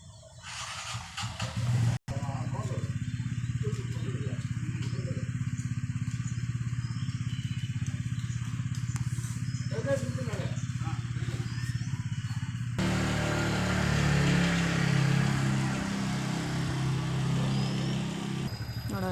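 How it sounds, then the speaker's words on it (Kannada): A motorbike is wheeled out and driven off for the school run, its engine idling and revving steadily, close at first, then shifting in tone and moving away, with no talk. "ಗಾಡಿ ತೆಗಿತಾ ಇದ್ದಾರೆ."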